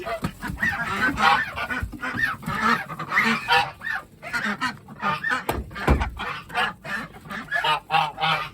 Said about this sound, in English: This way, you dozy goose.